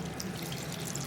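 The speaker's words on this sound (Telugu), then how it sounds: "దీనిలోకి ఇప్పుడు ఇలా వాటర్ పోసుకొని ఉడికించుకోవాలి" Water pours steadily into a pot of seasoned lentils for Andhra-style pappucharu, a soft continuous splashing stream, faint and brief, with no talking.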